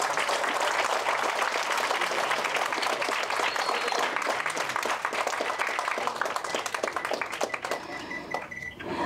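Dense, sustained applause from an audience at a Tamil film trailer launch event, steady and loud for several seconds before thinning near the end.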